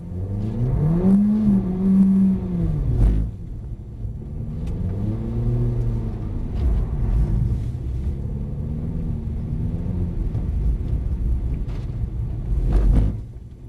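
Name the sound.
Mercedes-Benz car accelerating at full throttle on track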